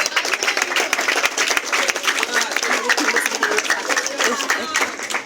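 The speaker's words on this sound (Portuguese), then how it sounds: "Uma salva de palmas" An audience applauds a presenter at a Portuguese-language program, a dense steady burst of many hands clapping close and loud throughout, without pause.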